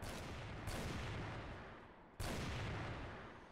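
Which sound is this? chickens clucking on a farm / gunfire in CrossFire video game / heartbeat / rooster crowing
gunfire in CrossFire video game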